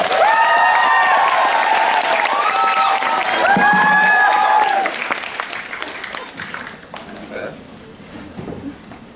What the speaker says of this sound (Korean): 존박씨께 다시 한번 박수 부탁드립니다